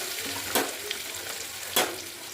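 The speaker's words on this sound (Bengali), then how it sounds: "আমার ডিমগুলো লাল লাল করে ভাজা হয়ে গেল।" Eggs fry in a pan with a soft, steady sizzle, broken by two brief, sharper crackling bursts as they are stirred or turned.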